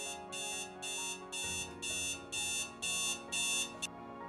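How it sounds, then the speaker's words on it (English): An electronic alarm clock in a smart-home apartment rings in repeated bursts of bright beeping, about seven pulses in a steady rhythm, close and insistent, then stops. "there's the alarm, the annoying sound"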